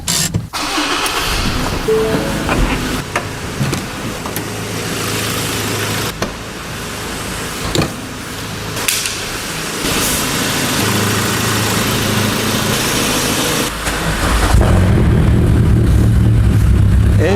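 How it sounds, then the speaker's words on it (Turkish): A car engine with the exhaust left open struggles to rev, rough and uneven with brief dips and restarts, then rises to a louder, steadier roar near the end, heard close by. "Araba zor gazlıyor."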